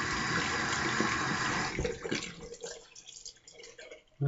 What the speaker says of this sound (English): Let me rinse my face with some cold water.